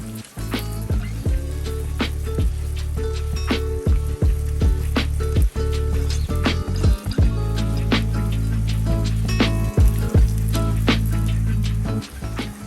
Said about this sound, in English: giving that a nice mix, making sure the pasta is mixed in really good with the sauce